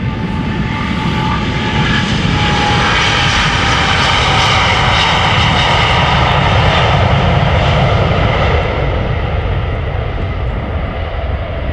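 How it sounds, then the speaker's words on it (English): A Ryanair jet departing Amsterdam Schiphol Airport bound for Dublin, its engines roaring loud and close in a sustained, broad, rising and falling whine with no talk. "Ryanair to Dublin also coming this way."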